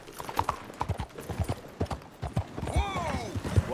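Horse hooves clip-clop in a steady rhythm in Red Dead Redemption 2, close and fairly loud, with a brief whinny-like call near the end; no speech over it.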